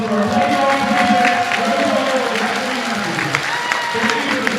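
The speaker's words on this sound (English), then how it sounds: "Fans, please join us in giving a loud and heartfelt round of applause for our volleyball president" Fans at an OCAA women's volleyball match, Durham at Loyalist, give a sustained round of applause and crowd noise in the gym, steady and loud, with voices and an announcer-like tone mixed through it.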